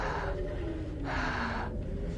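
A voice imitates someone breathing heavily, producing two long, raspy, drawn-out breaths close up with a short break between them.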